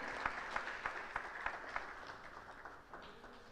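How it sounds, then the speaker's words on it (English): Audience applause at a public lecture, a steady patter of many hands clapping at moderate distance, fairly faint and thinning out toward the end. "A round of applause for him."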